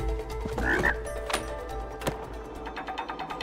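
A frog croaks in the video game It Takes Two over steady background game sounds, with several taps and clicks around it at moderate level.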